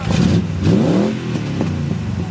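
A rear-wheel-drive rally car at a rally in Wyszków revs its engine close up, the pitch climbing and falling in a couple of throttle blips over a rumbling idle.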